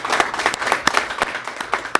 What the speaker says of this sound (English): let's give them a nice round of applause for doing well